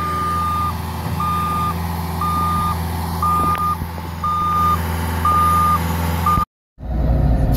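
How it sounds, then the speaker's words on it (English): A Cat skid steer loader's steady reversing beeps repeat in an even rhythm over the machine's low engine rumble, close by, with a sudden brief cut near the end. "So that's skid steer action there"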